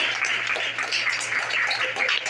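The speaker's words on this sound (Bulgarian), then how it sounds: "Може ли малко аплодисменти за свекървата?" A crowd at a family celebration claps for the mother-in-law, steady dense applause at moderate loudness with no break.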